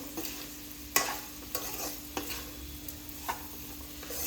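Bitter gourd with onion and salt frying in a pan: a soft, low sizzle punctuated every half second or so by sharp spatula scrapes.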